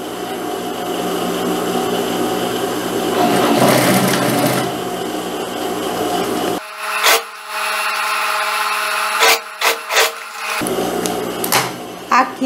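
A sewing machine stitches a jacket cuff in a loud steady whir that stops partway through, followed by short bursts of stitching and handling of the fabric.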